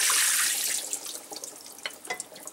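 Salt-cured salmon eggs and water are poured into a strainer, a loud rushing pour that tapers off into scattered drips and trickles.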